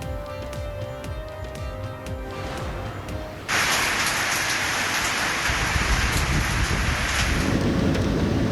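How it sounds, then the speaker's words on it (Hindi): Heavy rain pours down in a broad, steady roar that swells sharply partway through and stays loud, with no voices heard over the downpour. "बारिशों का धुआंधार स्पेल जारी।"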